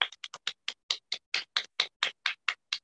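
About fourteen separate, sharp claps ring out in a steady rhythm at a success celebration for new achievers. They are close and distinct, with short silences between them.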